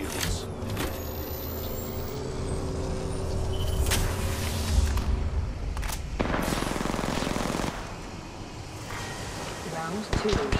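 Gunfire and engine noise from a video game, dense bursts of shots over a steady vehicle rumble, with sharp cracks and loud swells at intervals, close and continuous.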